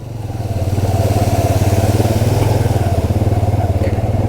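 Motorcycle carrying two riders on a rough mountain road in Swat Valley, Pakistan, a loud steady engine drone with rhythmic pulsing, close and continuous, no talking.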